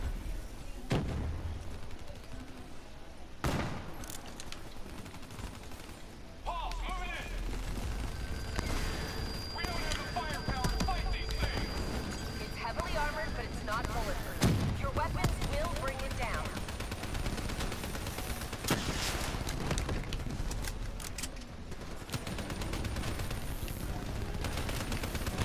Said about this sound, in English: I still hear a gunfire.